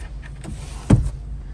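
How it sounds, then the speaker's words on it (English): The electric sunroof of a Mercedes-Benz C250 opens with a soft, steady motor whir and a faint click near the end, close and quiet in a still cabin. "Another great feature of the sunroof is on a hot summer's day, you can pop it up and let out all hot air from the vehicle."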